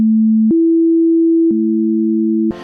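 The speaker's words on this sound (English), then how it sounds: "or in music terms, the perfect fifth" Pure sine tones forming a perfect fifth at a 3:2 ratio: a lower tone sounds alone, then a higher one, then both ring together. It ends on a short burst of broader sound.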